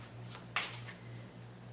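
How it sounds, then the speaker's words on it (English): Tarot card deck given a quick shuffle, a short faint riffle burst of cards in an otherwise quiet room. "I just want to give every one of these 4 decks a quickie shuffle"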